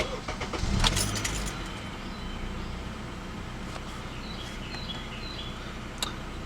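A 2012 Acura TSX sedan's engine cranks and catches in a short loud burst, then settles into a low, steady idle with a faint jingle of keys nearby.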